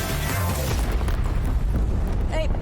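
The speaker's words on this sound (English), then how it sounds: "incoming airstrike!" A deep, loud explosive boom from an airstrike in a fighting-game-style shooter fills the moment, a sustained rumbling blast with low roar and scattered crackle, briefly overlapped by a voice.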